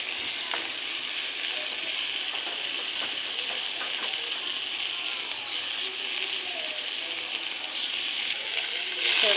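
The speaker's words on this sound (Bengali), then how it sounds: "তেল দিয়ে তেলটা গরম হলে পেঁয়াজ, কাঁচামরিচ, টমেটো দিয়ে দেবো।" Onions, green chillies and tomatoes fry in hot oil, giving a loud, steady, close sizzle that runs unbroken throughout.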